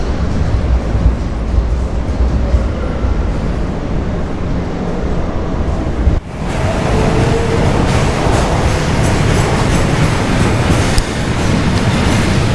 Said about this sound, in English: That's the train we've just come off.